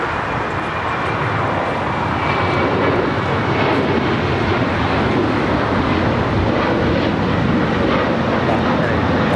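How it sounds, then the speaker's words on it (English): An Alaska Airlines Boeing 737-900ER takes off at an airport, a loud sustained broadband jet engine roar holding steady throughout. "This is Alaska Airlines 1083 taking off to Seattle on the 737-900ER."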